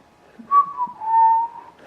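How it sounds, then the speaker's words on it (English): A person whistles a short, wavering tune close by, with rising and sliding pitches, heard alone in a garage workshop during a Suzuki GS550 frame build. "So that was an awful whistle."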